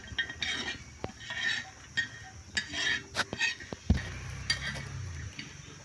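Coconut frying in a pan while being stirred, with repeated scraping strokes, light metallic clinks and a sharp knock against the pan over a faint sizzle.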